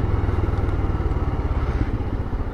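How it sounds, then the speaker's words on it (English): Royal Enfield Scram 411 motorcycle exhaust, a close, steady low growl with a rapid pulsing engine rhythm at idle, heard alone without talk. "The exhaust has got a nice little growl to it."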